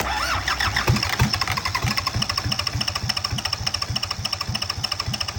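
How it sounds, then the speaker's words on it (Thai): An old diesel engine cranks on the starter in a steady rapid chugging rhythm, close and loud, with a high whine above, struggling without catching. "เรามาลุ้นกันว่าเครื่องจะสามารถสตาร์ทติดได้หรือเปล่า"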